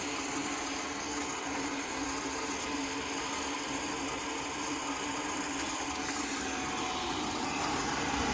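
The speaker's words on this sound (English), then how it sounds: "The fan's slightly noisy on it, and the condensate pump is on its way out as well." Worcester boiler with a slightly noisy fan and a failing condensate pump, giving a steady broadband whirring hum with a faint mechanical rattle, running continuously and fairly close.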